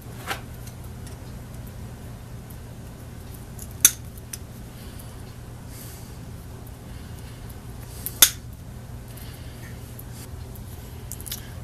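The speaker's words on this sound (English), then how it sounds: "Once I have the wire numbered, I'm going to cut it out." Wire cutters snip through old motor wiring during a South Bend lathe motor rewire, giving two sharp isolated clicks several seconds apart, plus a fainter one near the start, over a steady low hum in a quiet shop.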